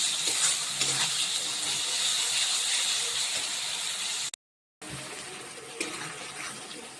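Spice masala being stirred and fried in oil in a pan, a steady loud sizzle with scraping stir strokes, briefly cut to silence midway before resuming.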